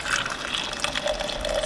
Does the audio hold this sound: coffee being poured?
yes